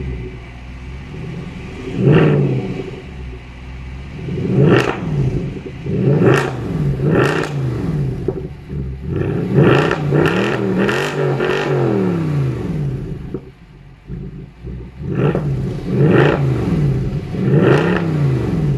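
A 2009 Mercedes C63 AMG Performance Pack engine is blipped repeatedly, a series of sharp, loud revs rising and falling close by, with deep rumbling between them and no talking.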